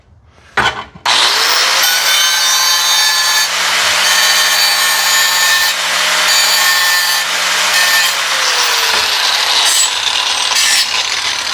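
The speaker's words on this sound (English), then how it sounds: "Actually, I'm just gonna grind it off because grind, it'll take it off." A power grinder grinds metal off a Corvair part, starting with a couple of short bursts before a long, loud, steady whine and rasp that holds for about ten seconds, close and uninterrupted.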